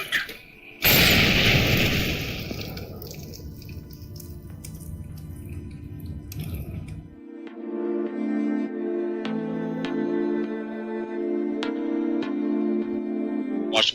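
Incendiary grenade in a video game, a loud burst at the start followed by several seconds of roaring, crackling fire, then shifting into a sustained tonal game hum with scattered pops and clicks.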